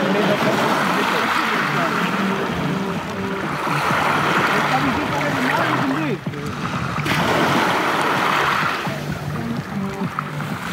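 Ocean waves wash and surge in swelling pulses on an outdoor shoreline, loud and close, while a voice talks indistinctly underneath.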